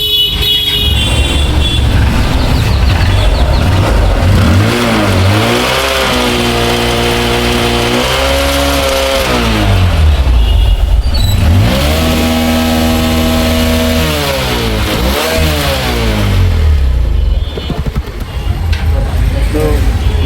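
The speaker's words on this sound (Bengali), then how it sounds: "তো আমরা এখন বাইকটা স্টার্ট করব" A Honda CB Trigger motorcycle with a dead-sounding, smoky engine starts and runs close by, loud and rough, its revs rising and falling in repeated swells over a steady idle.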